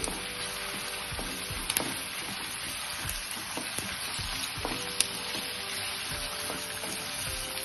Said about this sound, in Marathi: ही छान लालसर होईपर्यंत मस्त फ्राय करून घ्यायचे तेलामध्ये